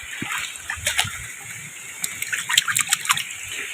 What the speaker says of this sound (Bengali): জলটা, পাইপের জলটা চালিয়ে দিই।